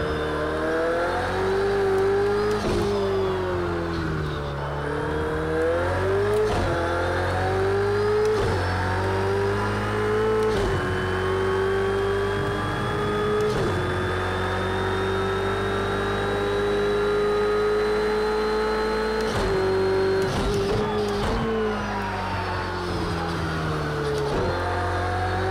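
A GT3 race car engine at Silverstone in Project Cars 2 drones loudly and continuously, its pitch rising and dipping through gear changes and revs, with shifts every few seconds and no voices.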